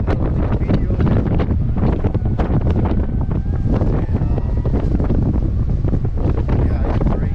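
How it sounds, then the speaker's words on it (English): Strong, gusty wind buffets the microphone during a DJI FPV drone flight in high wind, a loud, continuous roar with constant rumbling and flutter throughout. "it's a high wind right now"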